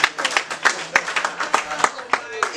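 Hand clapping at a worship gathering in the Bronx, sharp repeated claps in a quick, uneven rhythm, fairly close, mixed with voices talking and calling out over them.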